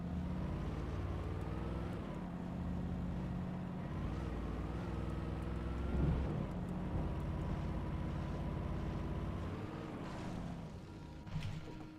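Pickup truck driven in the video game Alan Wake: a steady engine drone with shifting revs and low rumble, heard continuously at moderate level with a few small bumps.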